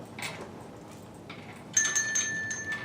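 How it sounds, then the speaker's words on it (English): A bell rings in short bursts, the first faint and early, then a brighter, sustained ringing tone that swells and lingers toward the end against a quiet background. "I can still hear the bell."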